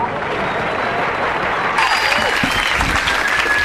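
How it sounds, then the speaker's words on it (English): A comedy show audience breaks into loud, sustained applause and cheering for comedian Bill Hicks, swelling partway through and continuing steadily to the end. "How about a nice round of applause for Mr. Bill Hicks?"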